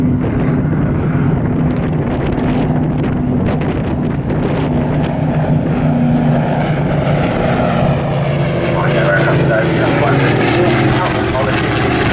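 Battle of Britain Memorial Flight Spitfire and Hurricane flying at an evening airshow display, a continuous rough propeller-engine drone with wind buffeting the microphone and a public-address voice talking over it.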